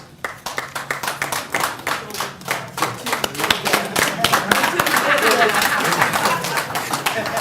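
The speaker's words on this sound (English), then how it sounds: "I need you to stop clapping." Audience at an industrialisation week conference clapping as an official comes to the podium, starting as sparse rhythmic claps that swell into dense, sustained applause, with some speech mixed in.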